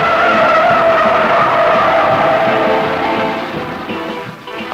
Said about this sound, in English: You can bring her through the turn in a four-wheel drift with power on.